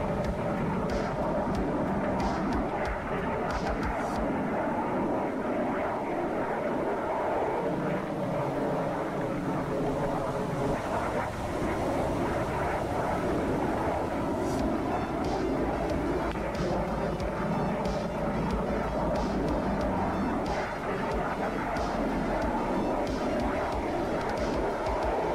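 Steady drone of an aircraft orbiting a waypoint in a 2002 Russian naval campaign game with the carrier Kuznetsov, a continuous engine roar with slow shifts in tone and no talk.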